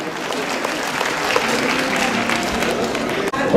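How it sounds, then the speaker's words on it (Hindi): A crowd at a religious gathering applauds in a loud, sustained wash of clapping with a faint murmur of voices underneath, cutting off briefly near the end. "तो आप सभी लोगों की एक बार जोरदार तालियां"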